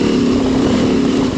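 A motorcycle engine gives a loud, close, steady thrumming drone during a brief moment.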